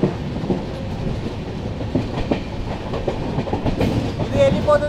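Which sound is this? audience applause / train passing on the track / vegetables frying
train passing on the track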